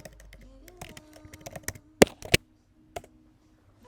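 Typing on a computer keyboard while entering a short line of Perl code, a run of close, crisp key clicks with irregular rhythm and a few louder keystrokes, including a heavier tap near the end.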